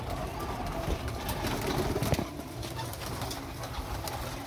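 Several imported pigeons coo amid a dense, steady background of noisy rustling and bustle, the soft low calls overlapping continuously.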